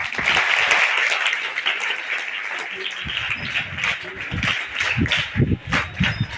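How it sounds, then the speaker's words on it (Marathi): Schoolgirls at a girls' high school gathering clap together in sustained, dense applause that holds steady for several seconds, with some voices mixed in. "एकदा टाळ्या वाजवा"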